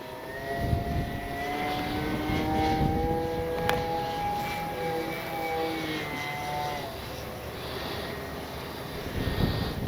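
A CNHL Super Tucano RC plane flies overhead in a gusty crosswind with its gear retracted, its electric motor giving a steady whine that holds at moderate loudness and shifts in pitch as it passes.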